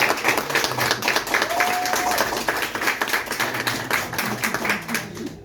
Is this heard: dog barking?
no